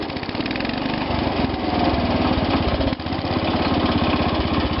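A garden tractor engine runs steadily nearby with a dense, rapid chugging drone, the pitch shifting slightly partway through as it keeps going.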